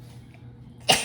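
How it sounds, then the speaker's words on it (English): A single sharp sneeze bursts out near the end after a quiet stretch of low room hum, close and loud, from someone applying makeup. "I'm gonna sneeze."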